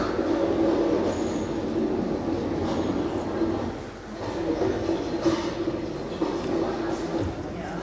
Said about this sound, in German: Wir fahren mit dem Zug